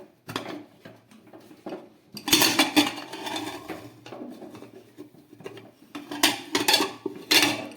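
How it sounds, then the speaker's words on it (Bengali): A pressure cooker lid is opened during Christmas cake baking, producing a series of close metallic clanks, scrapes and rattles in bursts, with quieter pauses between the handling noises. "আমি একটু প্রেশার কুকারের ঢাকনাটা খুলে"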